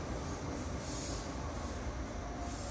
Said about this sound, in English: oh, here goes the train.